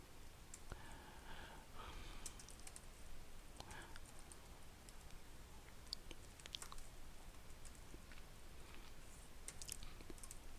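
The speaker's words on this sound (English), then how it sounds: "I'm going to type this out manually." Soft, quiet key clicks on a computer keyboard during a hacking exercise, coming in scattered short runs of taps over a low background hiss.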